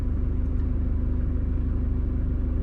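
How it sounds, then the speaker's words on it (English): A car rolls slowly into the car park at the start of the Victoria Dam walk, its engine a close, steady low rumble with an even throb and no talking. "we'll just drive on a bit and go into the car park"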